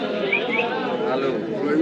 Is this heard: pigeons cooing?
yes